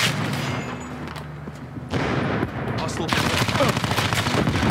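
Gunfire in the Black Ops 4 game, rapid bursts of shots and crackling automatic fire, fairly loud and dense, with a short lull before the firing picks up again.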